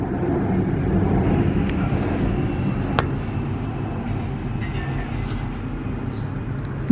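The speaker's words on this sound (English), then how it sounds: "And there's a train right there." A low, steady rumble of a train rolls past nearby in Bangkok, with a brief sharp clank partway through and faint hiss above it.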